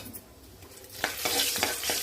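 Cumin seeds and asafoetida fry in hot oil in a pan, a soft sizzle that grows louder partway through, with a few sharp clinks and scrapes of stirring against the pan.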